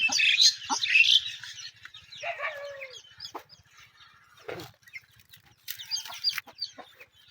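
Chickens cluck and chirp in short bursts close by, with quieter stretches between the calls and a faint low hum underneath.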